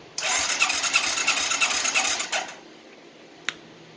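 A 1996 Suzuki Quad Runner 250 cranks on its electric starter for about two seconds with a rapid rhythmic whirring churn, then stops without catching, followed by near silence and a single sharp click.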